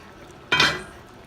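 A lid set onto a cooking pot of low-carb chicken caldereta with zucchini, a single close clatter of metal that rings briefly and fades, alone without talk.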